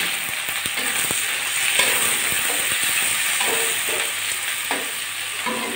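Grated ginger, garlic cloves and chopped onion frying in a pan for a Bengali beetroot ghonto, a constant hissing sizzle broken by sharp close spatula taps and scrapes, with no talking.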